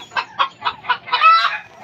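Hens cluck in a quick run of five or six sharp, close calls, ending in a slightly longer, rising cackle.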